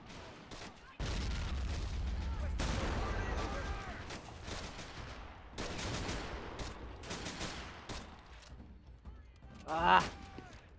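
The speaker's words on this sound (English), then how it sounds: "We have got to get rid of these bloody mortars. They are destroying us." Mortar rounds land in a World War II Pacific battle for Shuri Castle in a strategy game, with rolling booms and bursts of gunfire layered continuously and a voice talking over the barrage.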